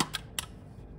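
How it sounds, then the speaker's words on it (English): Rolleiflex SLX medium-format camera raising its mirror for mirror lockup: two short, faint mechanical clicks about a quarter second apart, close up, followed by quiet. "It lifts the mirror."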